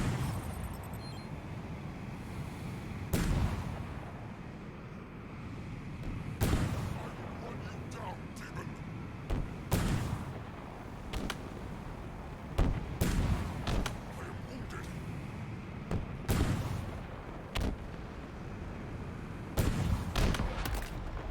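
Scattered enemy gunfire in Halo Infinite, a series of sharp shots and short bursts at irregular intervals over about twenty seconds, some near and loud, others more distant, with speech-like game sounds underneath.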